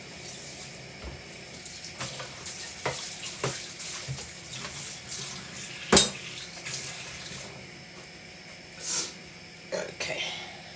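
Tap water runs steadily into a sink while raw chicken gizzards are rinsed for cooking, with a few sharper splashes and clinks over the flow and a brief voice.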